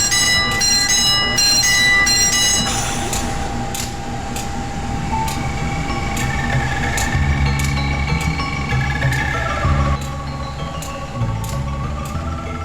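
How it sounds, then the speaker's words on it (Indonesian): A train rolls into platform 6 of a station with a loud rumble and rhythmic clicking, while repeated bell-like chimes ring out and the noise gradually settles. "Oke, udah datang tuh kereta ya."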